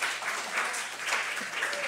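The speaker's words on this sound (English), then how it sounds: "we can give a round of applause for that to Joseph" A youth church gathering offers a short round of applause, a soft, somewhat distant patter of clapping hands that stays fairly even and faint.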